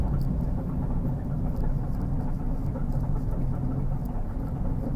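Low, constant road rumble from a 2004 Crown Victoria slowing to a stop, with a droning noise from the rear tire holding steady under faint hiss and no voices.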